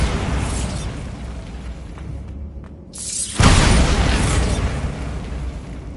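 Bombarda explosion spell in Hogwarts Legacy, a sudden loud broadband burst that blooms after a brief quiet moment and then roars on with a long rumbling decay.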